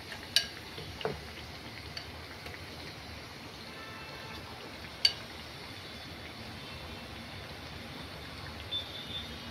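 Potato bhajji frying in hot oil: a faint, steady sizzling hiss with a few sharp ticks and light taps from handling, quiet and without talk.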